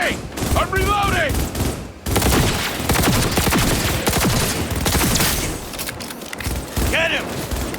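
Dense, sustained gunfire and rapid bursts fill a shootout in Cyberpunk 2077 at the Arasaka Estate, loud and continuous with shouting voices cutting in over the shots.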